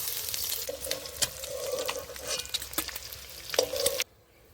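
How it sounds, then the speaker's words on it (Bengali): Eggs drop into hot oil for a coriander leaf egg curry, giving a crackling sizzle with utensil clatter and scraping in a kitchen pan, before cutting off abruptly near the end. "এবার ডিমগুলো দিয়ে দেব আমি ভুটভুট করে দেব"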